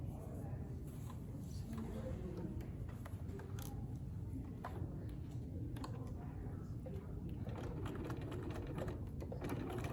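A sewing machine runs steadily, stitching straight across a chalk line while making a bag gusset. It gives a close, continuous rapid mechanical whir with clicking needle strokes, and a person talks over it.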